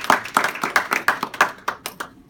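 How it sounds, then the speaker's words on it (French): A small group claps in a loose, uneven rhythm at a Freewings charity event in Montreal, about a dozen distinct claps that thin out and fade toward the end. "Je pense que ça mérite encore un applaudissement."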